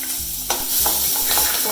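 Chopped shallots fry and sizzle in hot coconut oil with mustard seeds and urad dal while being stirred in a pan, a steady close crackle with scraping stir strokes and no talking.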